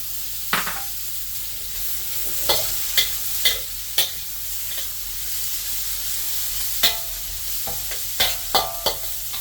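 Onion frying in a pan, a steady hiss and sizzle throughout, punctuated by intermittent sharp scrapes and taps of a utensil stirring, no voices.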